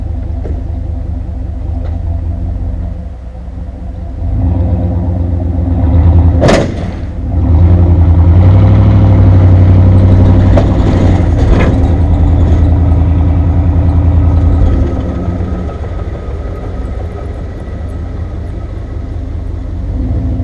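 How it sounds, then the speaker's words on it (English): A Dodge Durango towing a VW Jetta 1.8T uphill on a chain, its engine rumbling low and close, swelling under load midway after a brief sharp knock, then settling back to an idle. "I'm gonna try and tow it with the Durango. I got a chain hooked up."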